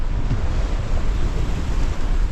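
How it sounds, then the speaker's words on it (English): Big ocean waves wash around a sailboat on a trade wind passage, a continuous rumbling surge of water mixed with heavy wind buffeting on the microphone, loud and close with no talking. "Got some big waves by here at the moment,"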